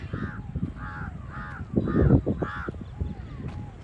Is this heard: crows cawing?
yes